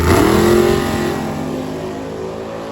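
A drag racing car accelerates hard down the strip, its loud engine roar peaking early and then fading steadily as it pulls away into the distance.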